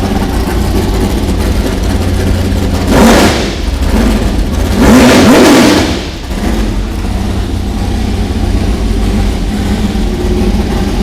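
A car engine idles loudly at a workshop, then is revved twice in quick swells before dropping back to a rumbling idle, close and without talk.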